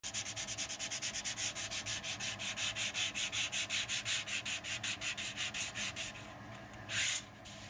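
Sanding putty on a scratch-built RC plane canopy, heard as rhythmic, close back-and-forth scratchy strokes, about four per second and fairly quiet, ending in a pause and one final rub.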